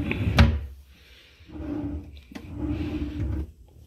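Hotel room drawers at a Hampton Inn & Suites in Fort Myers, Florida, slid open and shut: a sharp knock, then two separate rumbling slides, each with a soft bump at the end, close and moderately loud.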